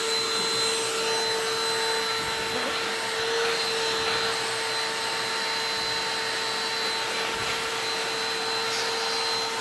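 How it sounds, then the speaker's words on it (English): A vacuum cleaner runs steadily and loudly with a high whine, sucking up fabric nap from the trimmed fabric sides of a quilted zip-up bag, with slight changes as it moves across the material. "I am just going to vacuum those sides really quick since I did just trim."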